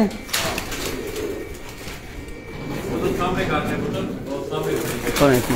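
A man's Dubai Teddy pigeons coo from their cage in a steady low murmur, heard beneath people chatting nearby throughout.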